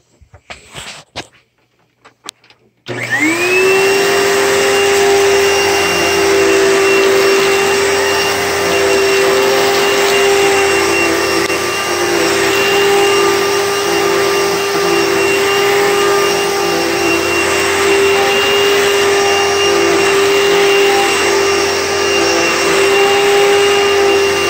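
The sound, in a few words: Kenmore Progressive bagless upright vacuum cleaner running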